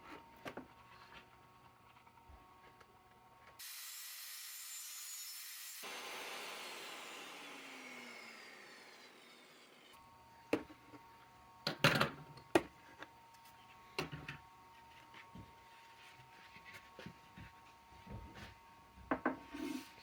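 A saw blade cuts a spline groove through picture frame wood held in a clamp, a loud steady whine lasting several seconds followed by a fading spin-down, then scattered knocks and handling clatter.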